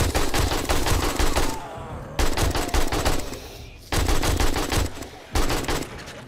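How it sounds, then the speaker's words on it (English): Bursts of automatic AK rifle fire in 7 Days to Die on horde night, loud and close, three long sustained volleys separated by brief pauses, with a short final burst. "Let the AK just sort of roll its punishment out"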